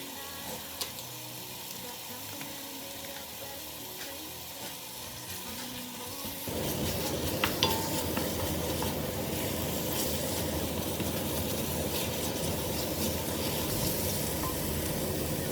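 Rendang spice paste frying in a pan in a summer kitchen, its quiet crackle swelling into a loud, dense, steady sizzle partway through, heard close up.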